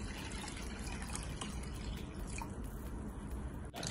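Water trickles and drips as it is poured into the container of an octopus toy, a steady close liquid splashing with no talk over it.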